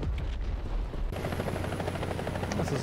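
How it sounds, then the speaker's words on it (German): Helicopter in the tank combat video game War Thunder, a steady rotor drone with a constant low rumble throughout, joined by a sudden brighter broadband layer partway through, alone without speech. "Ach komm, Hubschrauber."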